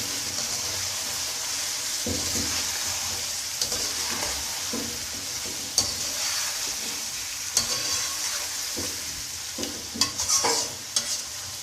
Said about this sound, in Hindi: इनको जो अच्छी तरह मिक्स करेंगे और इनको 2 मिनट जो भूनेंगे